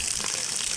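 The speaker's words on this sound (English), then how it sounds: "You want to run the water" Water rushes steadily through the drain line of an RV water softener during a back flush, a loud, close, even hiss with no pauses.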